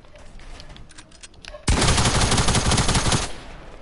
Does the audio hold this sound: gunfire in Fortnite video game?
yes